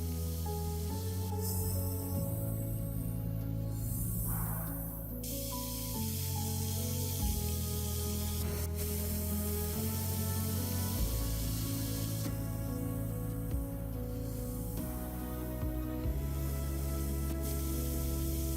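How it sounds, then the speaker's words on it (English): De-rusting spray hisses onto the seized joints of a vintage orange juicer, coming in several bursts of close airy hiss that separate into distinct spurts, with no speech. "I'll apply heat with a blowtorch to expand the metal, followed by a potent de-rusting spray"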